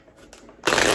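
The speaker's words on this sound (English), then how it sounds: "Shuffle up these cards." Tarot cards being shuffled, faint soft handling at first, then a sudden loud, close riffle of cards in the final moment.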